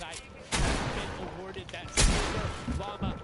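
Gunfire in a shooting video game: two loud, sharp shots about a second and a half apart, with further quieter bangs, mixed in with someone talking over the game sound.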